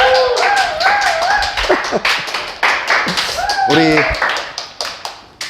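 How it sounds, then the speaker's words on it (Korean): An audience at a business leadership lecture claps to welcome a speaker, with scattered claps that grow denser near the end beneath a loud voice talking over them. "저는 거두절미하고 우한 바이러스를 뚫고 들어오신 이성궁 사장님 큰 박수로 모시겠습니다"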